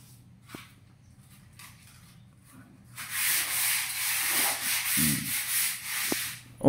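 Sandpaper rubbing a house surface before painting: quiet for the first few seconds, then steady, close, raspy back-and-forth scraping strokes that continue to the end.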